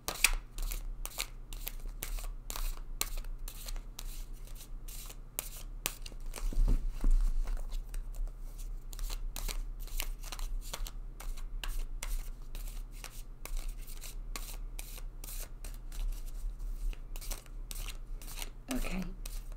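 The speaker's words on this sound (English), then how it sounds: "and shuffle this deck several times." A deck of tarot cards shuffled by hand over about twenty seconds, a steady run of close, crisp riffling and sliding card flicks with no speech.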